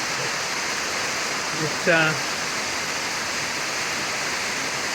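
Heavy rain pounds a workshop roof in a dense, unbroken roar that fills the whole stretch, with a single spoken word briefly surfacing.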